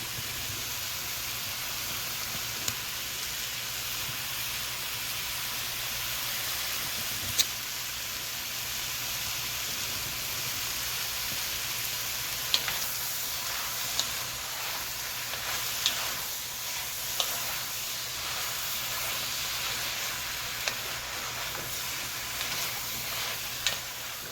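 Zucchini and kielbasa sizzle in a pot on medium heat, a soft, even hiss running steadily throughout, marked by occasional faint clicks and utensil taps.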